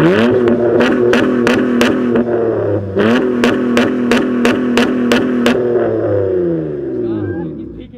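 A car engine in a street rev battle, revved hard and held high in repeated bursts with gear-like pitch steps, loud and close before dropping away at the end.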